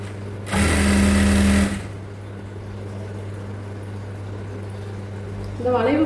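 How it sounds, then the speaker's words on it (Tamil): A sewing machine stitching the curved seams of palazzo pants whirs fast and close for about a second, then falls quiet against a steady electrical hum before starting again briefly at the end. "அந்த 1/2 இன்ச்சு அகலத்தில் 2 வளைவும் தைச்சு."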